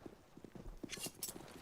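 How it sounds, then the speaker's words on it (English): Footsteps rush along in a Counter-Strike match, a quick irregular patter of soft thuds and scuffs with a few sharper clacks, quiet and close, with no voices over them. "He can hear the footsteps stampeding towards his location."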